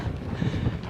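Strong wind buffets the microphone on an open stretch of the Arizona Trail, a dense low roar with gusty swells lasting the whole moment.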